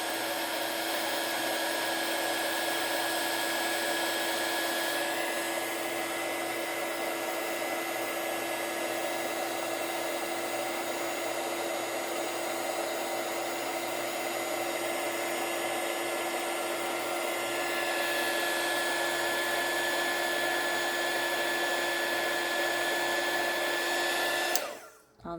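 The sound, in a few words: heat gun heating embossing powder on envelope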